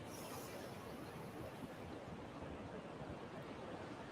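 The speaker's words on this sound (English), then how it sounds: "Listen to the ocean." Ocean waves wash in a steady, unbroken roar of surf that stays constant throughout, with no voices over it.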